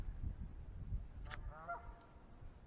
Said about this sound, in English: There's 4 Canadian geese on my lake.